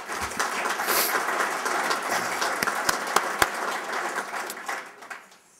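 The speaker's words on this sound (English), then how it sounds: "give them a round of applause." Audience applause at a sports hall of fame ceremony, a steady wash of clapping for about five seconds with a few sharper louder claps near the end before it fades out.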